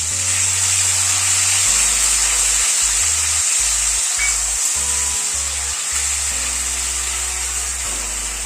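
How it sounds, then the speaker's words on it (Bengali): Tomato paste frying with capsicum in a pan for a pabda fish dish gives a steady, bright, close sizzle throughout, with low sustained musical tones playing beneath it. "টমেটোটা আগে একটু কষিয়ে নেব।"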